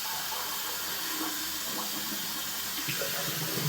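A tap runs steadily while someone rinses their face after a neck shave, making a continuous close hiss of flowing water with faint splashes.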